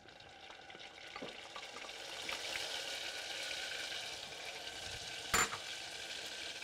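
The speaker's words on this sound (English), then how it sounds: "And now I'm going to add some hot sauce." Hot sauce hits a hot pan of melted butter for a sweet-heat Buffalo chicken wing glaze, a steady frying sizzle that swells slightly with a brief sharp crackle near the end and no talk.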